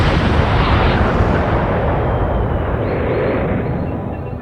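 A big cinematic explosion representing the Big Bang, a loud broadband roar that swells at the start and slowly fades over several seconds, heard alone.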